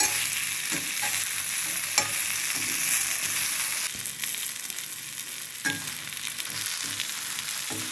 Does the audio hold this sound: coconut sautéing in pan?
yes